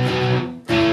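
Distorted electric guitar plays the last part of a chorus, two sustained chords ringing loud and close, the first cut off briefly before the second rings out, with no talking.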